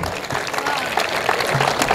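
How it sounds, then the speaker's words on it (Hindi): Dense crowd applause at a comedy poetry gathering, a brief burst of many people clapping together, loud and close, with no talk over it. "भाई जोरदार तालियां आनी चाहिए यार।"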